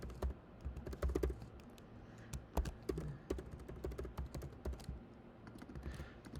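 Someone types on a computer keyboard, a quick irregular run of soft close clicks and taps at low volume, with no voices.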